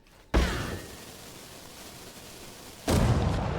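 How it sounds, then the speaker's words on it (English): Small bombs detonating in V Rising, heard as two loud, close blasts about two and a half seconds apart, each followed by a rumbling decay. "It's 132 damage from 3 small bombs."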